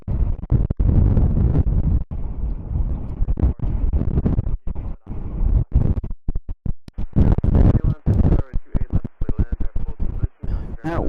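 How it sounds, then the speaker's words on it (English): Strong wind buffets an outdoor microphone at a plane spotting spot near SFO, loud irregular gusts and thumps filling the whole stretch with brief gaps between blasts. "That wind is crazy."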